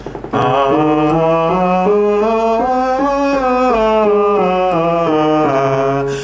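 A single voice sings a slow ascending then descending harmonic minor scale, one sustained note after another, clear and close with no accompaniment.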